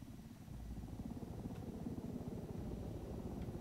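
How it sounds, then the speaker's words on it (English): Steady low rotor thrum of a helicopter in Tom Clancy's Ghost Recon Wildlands, continuous and fairly loud throughout with a dense mechanical rumble. "And you're flying a helicopter."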